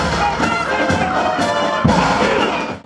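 Crowd cheering and applauding at a civic-military parade in Cubatão, a dense continuous roar of voices and claps throughout, with a thud near the end.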